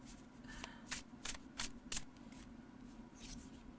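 Tarot cards get shuffled by hand in four or five quick riffling swishes close to the mic, then a few softer card rustles trail off in a quiet room.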